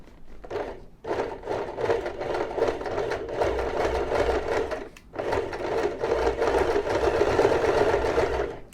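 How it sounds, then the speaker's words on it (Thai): A sewing machine stitching a shirt collar with a small bound edge runs in a steady, close whirring drone. It pauses briefly twice before starting again, with no talking. "เย็บไปเลยค่ะไม่ต้องย้ำ"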